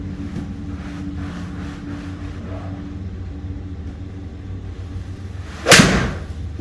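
A single golf club swing whooshes through and strikes the ball with a sharp, loud impact near the end, after a stretch of low outdoor rumble.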